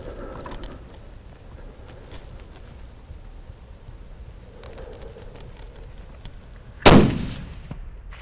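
One loud, sharp hunting rifle shot aimed at a pronghorn in open Wyoming country cracks out near the end, after a long quiet stretch of wind and faint ambience, and its echo trails off.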